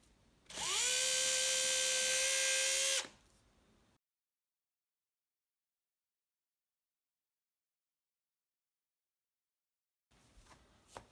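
A small drill bit whines steadily for about two and a half seconds while chamfering screw holes in the painted body of an ST-style guitar kit pickguard, a high, loud tone, followed by a long silence.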